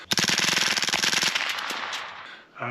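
Rapid burst of suppressed shots from a B&T Tiger .22 firing supersonic ammunition, a quick string of sharp pops over about a second, close and loud, trailing into a fading echo.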